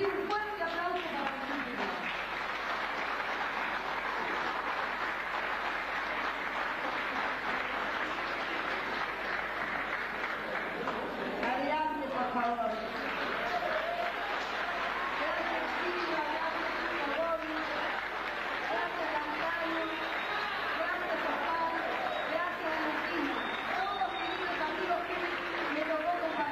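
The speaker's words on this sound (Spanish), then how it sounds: "pido un fuerte aplauso para" Sustained applause from a large audience at a tribute concert for Argentine popular music, welcoming a conjunto to the stage, steady and dense throughout with some voices mixed in.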